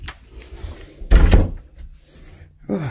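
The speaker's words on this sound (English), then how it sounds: "Oh, I kicked the door, it's nice and warm." A hallway door is kicked, giving one loud, close thud in the middle, with softer movement noises before and after it.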